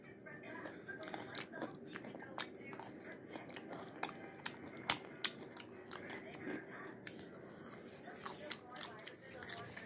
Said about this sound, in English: I'm going to be eating cucumber.